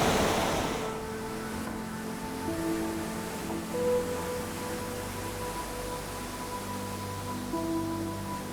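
A waterfall on Madeira roars as a steady, broad wash of rushing water, loud and continuous throughout, with a faint hum running beneath and no voices.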